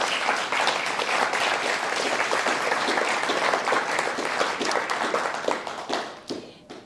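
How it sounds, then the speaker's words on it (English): An audience at a Guide Dogs for the Blind graduation ceremony breaks into full, dense applause that holds steady for several seconds, then thins and fades away near the end. "So if you guys can give yourselves and each other a round of applause"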